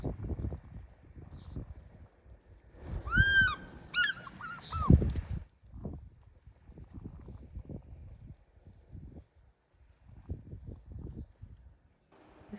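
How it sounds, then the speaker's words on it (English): An African fish eagle calls at a waterhole in Kruger Park where buffaloes wallow in mud, a short burst of ringing, yelping notes rising clearly over low rumbling and splashing sounds from nearby animals. "The fish eagle will actually call shortly,"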